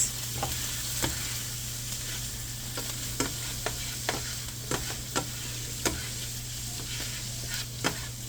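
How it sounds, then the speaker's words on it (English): Steak-umm meat and vegetables sizzle steadily in a skillet while being stirred, with scattered sharp clicks and scrapes of a utensil against the pan. "Let's get the vegetables mixed in with the meat."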